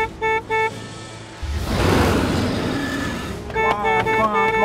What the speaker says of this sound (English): Honk the horn.